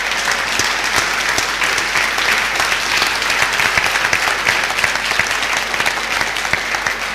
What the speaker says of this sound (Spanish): Podemos aplaudir al Espíritu Santo.